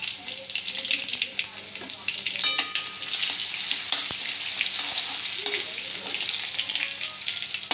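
Curry leaves and crushed garlic sizzle loudly in hot oil, a dense crackling hiss with sharp pops and spatters throughout.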